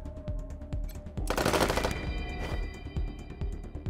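Bursts of heavy machine gun fire in the Wasteland 3 video game, rapid rhythmic shots rattling through the whole stretch, with a denser, louder volley in the middle.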